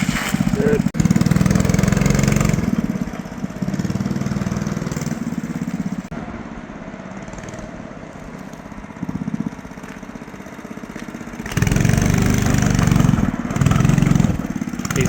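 An 8 horsepower go-kart engine runs on a backyard dirt track with a loud, close, chugging drone that rises and falls as it revs and eases off, and people talk over it.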